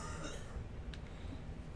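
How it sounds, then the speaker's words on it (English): A woman coughing in another room, one muffled throaty cough rising briefly over a steady background of game sound and room noise. "I can hear her coughing in the background too."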